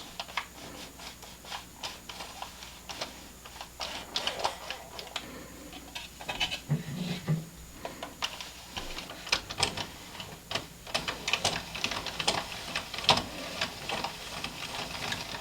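A Sentro circular knitting machine being cranked needle by needle, producing a quiet, rapid series of plastic clicks and ticks in an uneven mechanical rhythm with no talk.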